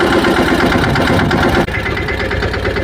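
A tractor engine idles loudly and close, a rough steady knocking rumble that shifts slightly in tone partway through.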